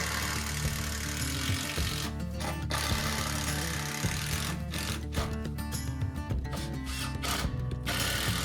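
Power drill driving 70mm construction screws into wood, loud continuous motor whine with the pitch shifting under load and a few brief pauses between runs.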